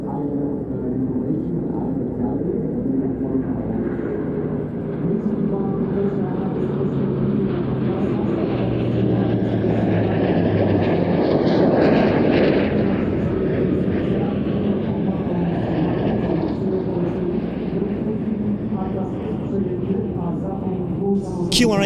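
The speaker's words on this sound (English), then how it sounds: "the target aircraft is a relatively slow-moving one, and the Eurofighters can quickly catch up with it" Eurofighter jets on an air policing intercept demonstration at an airshow produce a sustained, loud jet roar that swells toward the middle and then holds steady, with a commentator talking over it throughout.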